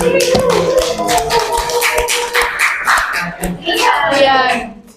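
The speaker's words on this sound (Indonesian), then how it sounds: "Tepuk tangan." Students clapping in an Indonesian Islamic education classroom, bursts of hand claps mixed with children's voices and chatter, loud and close, rising and falling over about five seconds.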